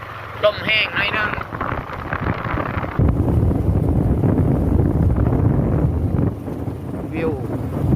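Gusty wind buffets the microphone outdoors on a rural walk in Laos, a low rumbling roar that swells loudly after the first few seconds, with a person talking near the start.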